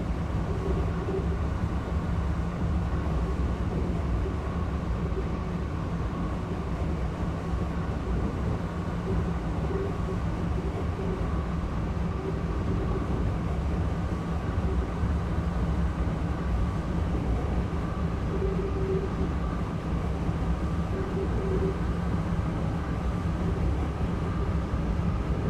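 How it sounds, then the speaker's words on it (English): Amfleet coach wheels rolling along the track in Train Simulator 2015 on Amtrak's North East Corridor, a steady, loud rumble with a faint repeating thump as if the wheels have flats, continuous and with no talk. "The coach, the running sound of them with the wheels is superb."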